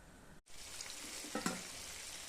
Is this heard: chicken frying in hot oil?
yes